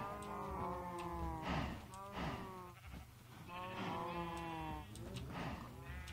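Cattle mooing in the Minecraft modpack Agrarian Skies, several drawn-out low calls from a herd repeating every second or so, fairly loud and close with no talk over them.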